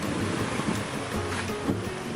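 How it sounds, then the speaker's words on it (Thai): Strong wind gusts across the beach at Kata in Phuket, a steady broadband roar with faint surf beneath, loud and continuous with no voices. "ลมแรงปั๊บ"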